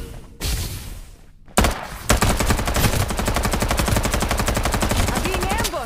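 Sustained rapid automatic gunfire in the video game Farlight 84, loud and close, with a brief burst at the start before a long continuous stream of shots.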